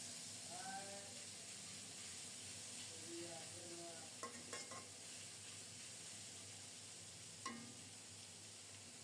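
Tengra fish being stirred into a hot spice tempering in a pan make a faint, steady hiss with a couple of brief utensil clicks and some soft tonal squeaks in the background.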